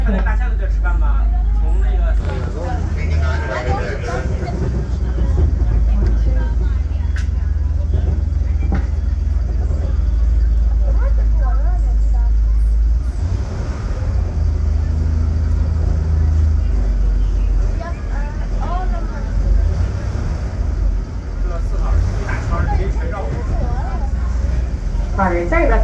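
A zoo tour bus drives along with a steady, loud low engine rumble throughout, while a driver talks over the noise.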